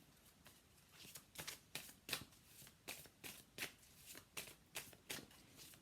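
Tarot cards being shuffled and drawn, a string of quick, crisp riffling swishes in an uneven rhythm, soft and close, with no talking.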